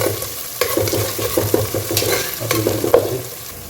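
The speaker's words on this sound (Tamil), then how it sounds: "வெங்காயம் போட்டு தாளிச்சிட்டு" Chopped onions frying and being stirred in a pan for cabbage and potato poriyal, with a low steady sizzle under repeated scraping and clinking strokes of the spoon, close and fairly loud.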